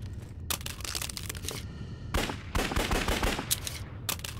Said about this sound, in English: So this is technically kind of like a top loading gun.